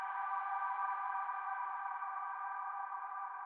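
A steady, washed-out synth pad made from a violin sound with heavy reverb drones evenly, smooth and airy with a narrow midrange glow, holding unchanged throughout without any talking.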